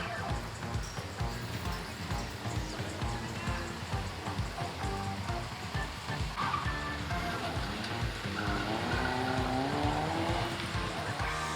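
Toyota Vios race car driven in low gear around a tight technical track course during a racing festival, a steady loud engine drone with shifting revs and tyre noise, with people talking over it.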